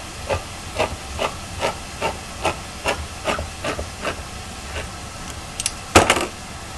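Crushed tomatoes hit a hot pan and sizzle, giving a steady background hiss broken by a regular series of soft scraping or stirring strokes and a louder burst near the end, close and without speech.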